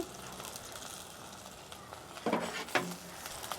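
Shallots and sliced garlic for a Jaffna-style fish kulambu sizzle faintly in a very hot pan, the soft hiss punctuated by two louder bursts of spattering near the end.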